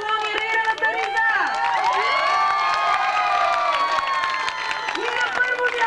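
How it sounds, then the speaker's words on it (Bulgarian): An audience of children and adults claps and cheers loudly for a boy in black trousers and a striped shirt, with excited shouts and whoops rising over continuous applause. "На второ място искам да чуя вашите бурни аплодисменти за момчето с черния панталон и раираната риза!"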